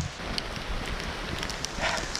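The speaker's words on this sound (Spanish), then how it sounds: "Ya empezó a llover fuerte." Heavy rain pours steadily on Hawaiian vegetation, a dense, continuous hiss close around the listener with no talk.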